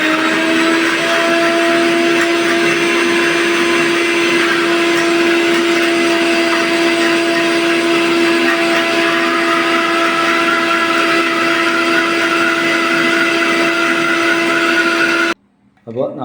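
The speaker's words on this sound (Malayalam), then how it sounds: "നമ്മൾ മിക്സിയിൽ ഇതിനെ അരച്ചെടുക്കാണ്" A kitchen mixer grinder whirs loudly and steadily as it grinds garlic and turmeric in its jar, a constant high motor whine that cuts off abruptly near the end.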